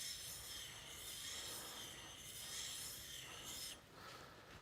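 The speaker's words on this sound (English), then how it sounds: "So we'll do 20 strokes again on the fine stone." Chisel bevel honed on a fine sharpening stone, a steady run of close, quiet rasping strokes with a soft hiss, rhythmic and alone without talk.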